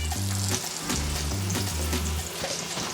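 Chicken sizzling and frying in a hot pan, a dense crackling hiss that holds steady and close throughout, with a few faint clinks and stirring noises.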